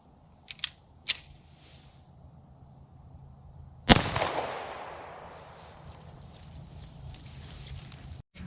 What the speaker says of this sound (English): next up we have 9mm out of this Beretta